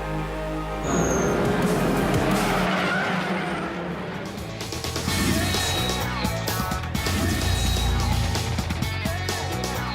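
Volkswagen Polo Cup race cars skid and squeal their tyres at Zwartkops circuit during a 2021 race, engines roaring steadily under the screech, with brief chirps cutting through the continuous track noise.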